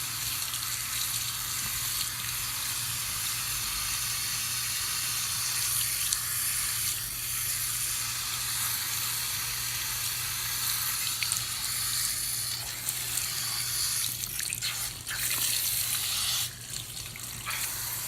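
Tap water runs steadily in a salon sink, a constant loud splashing rush with a few brief clinks and knocks near the end and no speech.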